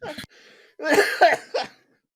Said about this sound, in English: You're gonna have me coughing now.